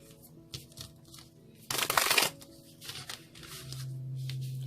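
Tarot-style cards are shuffled in a single brief, crisp riffle burst lasting about half a second, close and fairly loud, between quieter rustles and handling noises.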